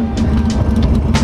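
A Harley-Davidson Nightster motorcycle with a Bassani exhaust, a loud, deep, throbbing idle rumble heard nearby in a brief burst on a highway roadside.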